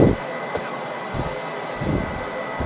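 Airliner jet engines at takeoff thrust in a flight simulator, a loud steady roar with a constant whine running throughout, alone without talk.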